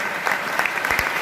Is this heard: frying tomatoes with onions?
no